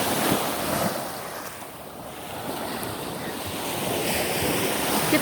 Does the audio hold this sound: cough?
no